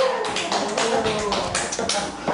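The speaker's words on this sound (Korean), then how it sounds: "박수 한번 쳐주세요." Audience applause in a church Bible class, a close, dense patter of many hands clapping steadily for a couple of seconds.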